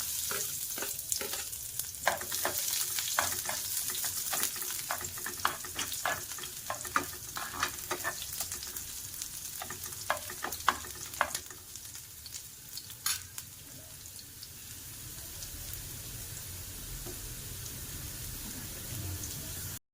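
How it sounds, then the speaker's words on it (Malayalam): Garlic frying in oil in a frying pan, a fine crackling sizzle with scattered spattering pops and occasional stirring clicks, fairly quiet and close, easing to a gentler hiss toward the end with no one speaking. "അപ്പം നമ്മൾ അതിന് ഒരു ഫ്രൈ പാൻ വെച്ചിട്ടുണ്ട്, എണ്ണ ഒഴിച്ചിട്ടുണ്ട്. അപ്പം നമുക്ക് അതിനകത്തോട്ട് ആദ്യമേ നമ്മുടെ വെളുത്തുള്ളി ഇട്ട് കൊടുക്കാം."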